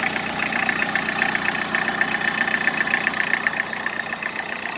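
A 2011 Tata Indica diesel car engine idling in good condition, a steady close mechanical rattle with a faint rhythmic knock, continuous and alone without voices.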